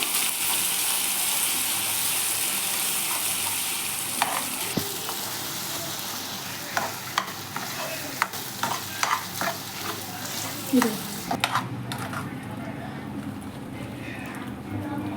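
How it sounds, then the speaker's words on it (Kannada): Ground masala paste fries in oil for festival cooking, a steady close sizzle with scattered scrapes and knocks of stirring in the latter half, and faint voices behind it. "ರುಬ್ಬಿರೋ ಮಸಾಲೆನ ಚೆನ್ನಾಗಿ ಎಣ್ಣೆಲಿ ಫ್ರೈ ಮಾಡ್ಕೋಬೇಕು"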